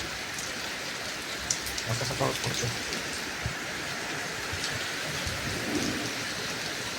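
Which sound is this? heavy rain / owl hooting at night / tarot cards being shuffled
heavy rain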